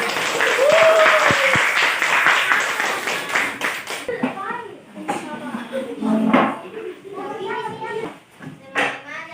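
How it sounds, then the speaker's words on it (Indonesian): Children in a primary school classroom burst into dense, close clapping for about four seconds. Then the applause stops and children's voices take over. "Oke, tepuk tangan untuk semua."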